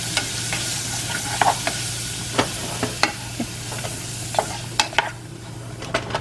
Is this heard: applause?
no